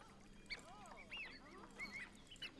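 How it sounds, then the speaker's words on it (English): Wood ducks at an eagle aviary giving faint, thin rising squeals and whistles, several short calls scattered over a quiet background. "We have wood ducks."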